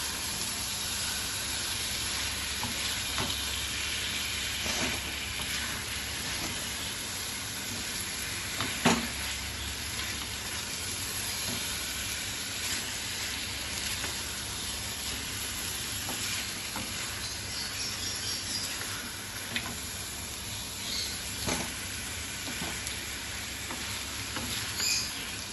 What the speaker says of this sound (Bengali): এবার মাংসের সাথে এটাকে ভালো করে মশলাটা মেশাবো